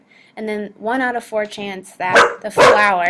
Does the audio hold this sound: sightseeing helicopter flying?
no